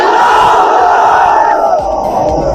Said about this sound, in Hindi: मेरे साथ नारा लगाइए, नारे तकबीर